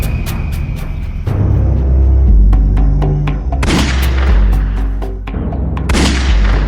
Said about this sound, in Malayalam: അത് വെടിവെച്ചല്ലേ കേട്ടത്?